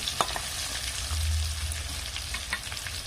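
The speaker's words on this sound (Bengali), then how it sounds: "একটু তেল বেশি করে দিলে কিন্তু আলুটা কিন্তু খুব সুন্দর ভাজা হয়" Potatoes deep-frying in plenty of hot oil for a chicken curry, a dense, even sizzle heard close up with a low bubbling undertone and a couple of faint spatula taps.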